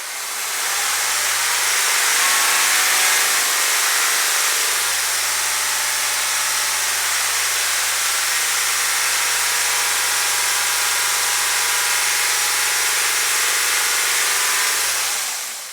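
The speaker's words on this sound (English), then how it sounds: "Let's rev up the engine and see what it gets." A diesel car engine, a 236k-mile vehicle with an ash-filled DPF, revs up and holds a steady elevated speed around 2,500 RPM, a loud continuous mechanical drone with brief dips early on, no talk.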